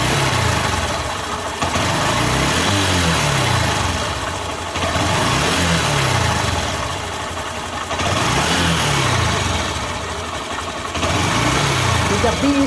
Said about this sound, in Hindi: तो मैं इस बाइक को जैसे स्टार्ट किया है, तो ये मेरी बाइक प्रॉपर रेस ले रही है।